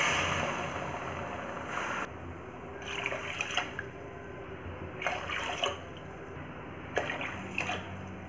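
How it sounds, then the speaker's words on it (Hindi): Water poured from a bowl into a pan holding sugar, in a home kitchen; splashing pours come in several separate bursts, close and moderately loud. "अब हम इसी कटोरी से चार कटोरी इसमें पानी डालेंगे।"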